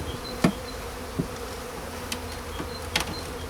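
Honeybees buzz around an opened hive during an early-spring inspection, a steady close drone with a few louder passes of individual bees near the ear, no talking.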